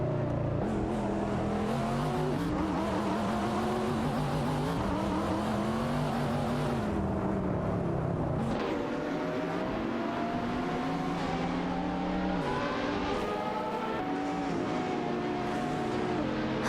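Hypercars in a video game race, including a McLaren and a Pagani, roar continuously with engine revving and shifting pitch throughout, loud and close with no pauses and no talking.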